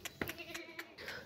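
An Osmanabadi goat gives faint, short bleats amid a low, noisy farm background, with several brief cries spaced irregularly.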